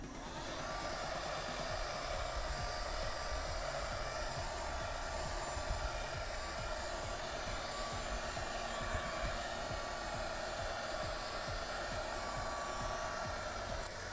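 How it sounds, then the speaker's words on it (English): A heat gun blows hot air in a steady, even whoosh that holds unbroken from start to finish, close and moderately loud, while working on a Boba Fett left vambrace prop. "Got my heat gun."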